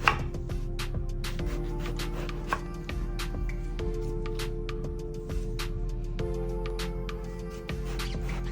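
A knife slices eggplant into half-inch rounds on a cutting board, giving a steady run of crisp, close taps at an uneven pace over a constant low hum and background tones.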